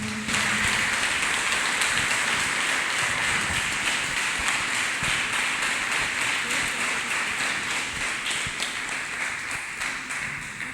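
A church congregation claps their hands together for Jesus during a prayer service. The claps are steady and rapid, forming a dense, continuous wash of applause at an even level throughout.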